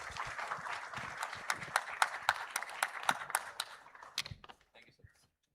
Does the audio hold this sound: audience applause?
yes